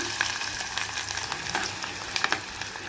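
Onions frying in hot oil for tempering, filling a pan with a steady crackling sizzle punctuated by sharp spits and pops, close and even in level, with no speech.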